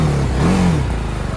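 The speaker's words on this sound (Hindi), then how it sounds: "रेफ करिए एक बार रेफ करिए" A vehicle engine on a cold start revs once, its mid-pitched drone rising and falling over a steady rumble, close and loud with no talking.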